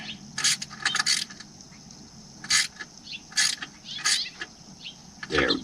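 A ratchet tightens a part on a 1983 Oldsmobile Omega in several short bursts of quick metallic clicking, close and fairly quiet, separated by brief pauses.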